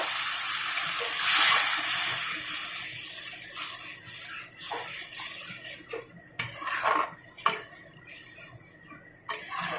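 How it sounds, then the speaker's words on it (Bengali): Water poured from a tap or jug into a pan of spiced gravy for a Bengali rohu fish curry, a steady hissing splash up close, followed by a few clanks of utensils against the pan. "এখন আমি দিয়ে দিচ্ছি জল।"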